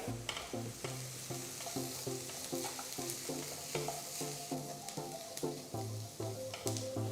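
Onions sautéing with ginger garlic paste in a pan, with steady sizzling under repeated rhythmic scraping and stirring strokes, close and fairly loud, with no talking.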